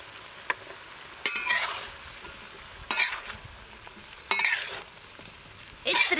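Cauliflower and bell pepper stir-fried with black pepper and green onion, the pan hissing steadily while four louder bursts of scraping and tossing come at irregular intervals, close and without any talk.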